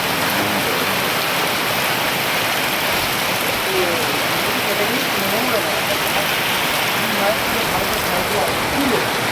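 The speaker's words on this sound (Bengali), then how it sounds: "প্রচণ্ড বৃষ্টি হচ্ছে, এই দেখো দেখতেই পাচ্ছ" Heavy rain falls near a temple as a loud, unbroken roar of dense drops, close and constant from start to finish.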